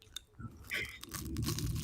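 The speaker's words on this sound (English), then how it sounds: "I'm glad you got the crunch sound in there too" A bite into flaky baklava gives a few crisp crunches followed by soft chewing, close and fairly quiet with no talking.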